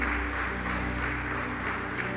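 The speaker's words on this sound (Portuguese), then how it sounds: "Dê uma salva de palmas para Jesus" Church congregation applauding Jesus during a worship service, a continuous wash of many hands clapping at an even level from start to finish, slightly distant and blended with a low hum.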